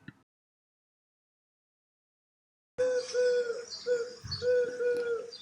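Pigeon cooing from a read-aloud Italian children's story: after near silence, a steady run of soft, repeated coos and warbling calls rises close and fairly loud, filling the last few seconds.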